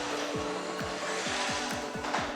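A Carrera slot car whizzes repeatedly around the track, each pass a quick descending electric whine over a constant motor hum, about six laps in rapid regular succession.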